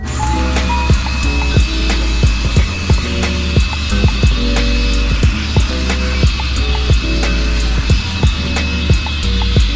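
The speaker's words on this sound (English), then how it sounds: "the next thing I have to do is vacuum out the cabinet" A loud, steady vacuum cleaner roars close by, with rhythmic knocks and clatter as the nozzle bumps around inside a reef aquarium cabinet.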